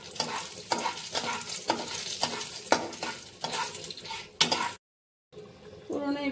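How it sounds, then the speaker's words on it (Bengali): Whole spices, dry red chilli, cinnamon, cardamom, cloves and bay leaf, crackle and sizzle in hot oil with repeated stirring scrapes, close and fairly loud, then a short silent gap before the sizzling resumes more sharply. "হয়ে গেল তাতে আমি একটা শুকনো লঙ্কা দিয়ে দিচ্ছি ফোড়নে, দারচিনি, এলাচ, লবঙ্গ দিয়ে দিচ্ছি, তেজপাতা দিয়ে দিচ্ছি"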